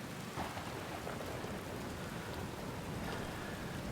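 A thunderstorm with rain in the video game Outer Wilds: steady heavy rainfall hisses throughout, with low rumbling thunder underneath, constant and fairly loud, no voices.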